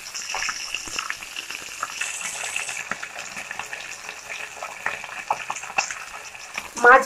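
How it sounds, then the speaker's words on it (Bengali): Katla fish rubbed with salt and turmeric fries in mustard oil, a fairly quiet, continuous crackling sizzle with small spits and pops throughout and a brief louder clatter at the end. "মাছটাকে ভেজে নেবো আমরা"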